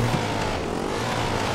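Several quad bikes race together in the multiplayer game Just Cause 2, engines droning at a steady, close, buzzing pitch with no break.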